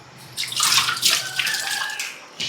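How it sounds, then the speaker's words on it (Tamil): Water splashing and running as rice is washed by hand in a kitchen, a close, steady sloshing rush with brief pauses and a fresh splash at the end. "இந்த அரிசி எடுத்து நல்லா வாஷ் பண்ணிவிட்டு இதில் சேர்த்துக்கிறேன்"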